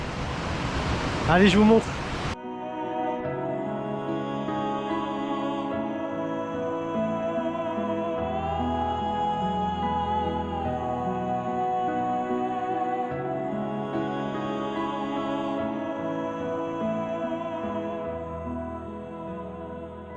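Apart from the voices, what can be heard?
waterfall in the Jura seen from the top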